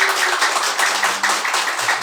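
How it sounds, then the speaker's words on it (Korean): Audience in a dance-hall seating area clapping in welcome, a steady dense patter of hands throughout, fairly close and even in loudness. "박수 한번 주세요"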